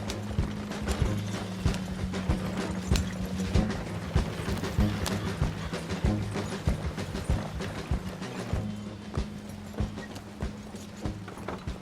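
Horse hooves clip-clop steadily while a wagon rolls along in Red Dead Redemption 2, with faint mechanical creaks of the wheels and harness beneath the even rhythmic beat, no talking.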